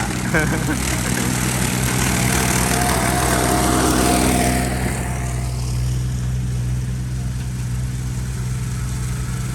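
A Kubota 4x4 ride-on mower engine drones loudly and steadily nearby, its roar easing to a lower, quieter hum partway through.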